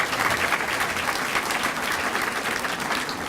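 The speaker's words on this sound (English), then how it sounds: "Give her a round of applause" An audience gives a dense, sustained round of applause for Chicago transportation commissioner Rebekah Scheinfeld, loud and continuous throughout with no speech over it.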